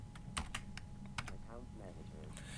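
Quiet, irregular clicking of a computer keyboard as an Excel formula is typed, with soft keystrokes in quick bursts and a faint voice in the background.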